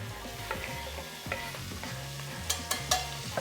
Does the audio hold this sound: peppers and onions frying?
yes